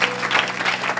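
Audience applause at a church service, a brief burst of dense, steady clapping from many hands, loud and close.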